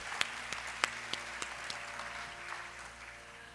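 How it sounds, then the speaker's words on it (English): An audience at an arangetram classical dance recital applauds the young performers, scattered distinct claps at first that blend into a softer, fading patter. "you have to give a big applause for them"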